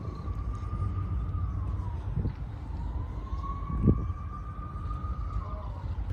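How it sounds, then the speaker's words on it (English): Wailing emergency vehicle sirens drift in from a distance, a long rising and falling tone carrying faintly over low background rumble near railroad tracks, with a couple of brief knocks. "I'm hearing a lot of sirens."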